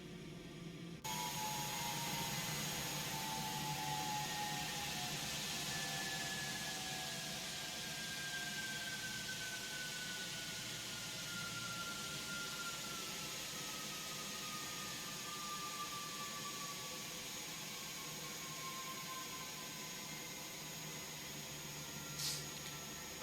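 Cessna aircraft engines in the X-Plane 12 flight simulator wind down after landing at Nassau, a steady broadband whine with a slowly falling tone that holds at a constant level throughout.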